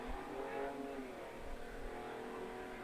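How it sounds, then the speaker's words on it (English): Road traffic drifts in through open windows as a steady, low engine rumble and the whoosh of passing cars, continuous and moderately distant, with no talking. "I have my windows open, so that's why if you hear car noise in the background."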